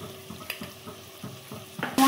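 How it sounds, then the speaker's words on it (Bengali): Spice paste of chilli, cumin and coriander powder fries in a pan for mutton kosha, sizzling softly as a spoon scrapes and stirs in a steady rhythm, ending in a sudden louder hiss. "মশলাটি লেগে যাচ্ছে, আমি এখানে সামান্য জল দিয়ে ভালো করে কষিয়ে নেব"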